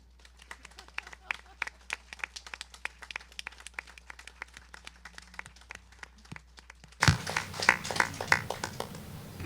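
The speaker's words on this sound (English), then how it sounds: "But not without one more round of applause for Tom." Scattered audience claps at a Hawaiian music concert, sparse and fairly quiet at first, then swelling into louder, fuller applause for the last couple of seconds.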